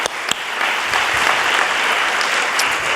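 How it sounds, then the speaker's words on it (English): An audience at the Dance/USA 2018 closing plenary session breaks into applause, a full, sustained wash of many hands clapping in a large hall, loud and steady for several seconds. "Give yourselves a round of applause."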